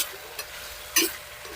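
Pork frying in a pan for pork binagoongan: a steady hiss of sizzling oil with a louder crackling burst partway through, close by and with no voices.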